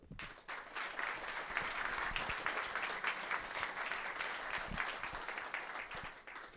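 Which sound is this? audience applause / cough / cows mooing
audience applause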